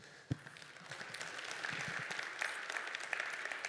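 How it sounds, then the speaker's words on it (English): Conference audience claps for the next speaker at a Python talk, a quiet start swelling into sustained, moderately loud applause from a room full of people, with no talking over it. "An applause, please."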